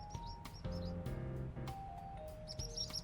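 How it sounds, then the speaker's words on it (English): Birds chirp and sing in the game Trails Beyond the Horizon, short bright tweets and calls repeating over a steady ambient music bed with soft tones, fairly quiet and continuous. "The birds are chirping and singing."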